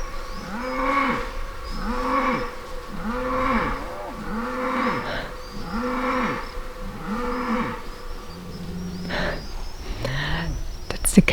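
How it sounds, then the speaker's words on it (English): Cows in the Swedish countryside moo repeatedly in a steady series of long, loud calls, about one every second, with a few lower, shorter lows toward the end. "That's the cows"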